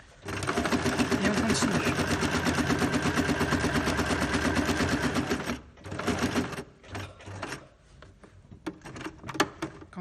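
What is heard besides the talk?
sewing machine stitching fabric for a gift bag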